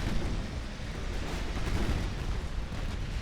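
Naval gunfire in the warship battle game Ultimate Admiral: Dreadnoughts, a dense, continuous low rumble of distant heavy guns and explosions rolling together without clear separate shots, moderately loud and unbroken.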